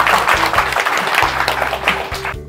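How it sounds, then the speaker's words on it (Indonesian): Applause at a community event in Jembrana, a steady burst of hand clapping lasting a couple of seconds, loud and close, with a low hum underneath and a brief fade at the end. "Boleh tepuk tangan pantun saya."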